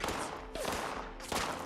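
Gunfire from a shooter in World of Warcraft comes as a few sharp cracks spaced under a second apart over a steady, busy game backdrop.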